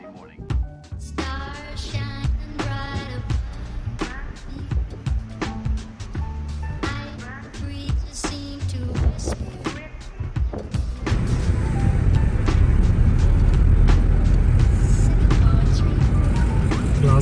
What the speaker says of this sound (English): It's time to drive off the ferry.